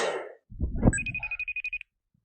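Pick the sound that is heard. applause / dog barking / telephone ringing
telephone ringing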